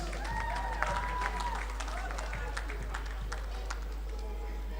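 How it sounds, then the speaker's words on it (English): A graduation ceremony audience claps for a graduate, a fairly soft, continuous patter of many hands over a steady low hum, with a few sharper claps standing out. "A round of applause for her, please."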